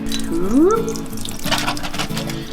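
Running tap water pours over strained hearts of palm in a kitchen sink, a steady splashing stream with a brief rising tone near the start.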